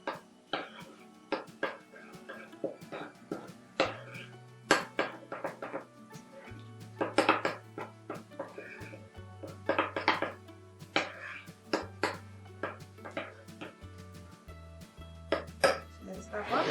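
Desiccated coconut being mixed into cupcake batter in a bowl, with repeated clinks and scrapes of a utensil against the bowl. A low hum runs underneath.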